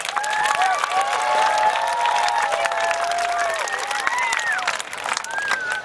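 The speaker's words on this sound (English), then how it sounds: "How about a big round of applause for those guys, huh?" A crowd of kids and adults applauds volunteer coaches at an outdoor youth football clinic, with steady, dense clapping and some cheering and voices mixed in throughout.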